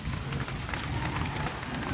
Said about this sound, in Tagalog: Umuulan. Pero, ulan ano pa lang, hindi pa malakas. Ambon pa lang yan.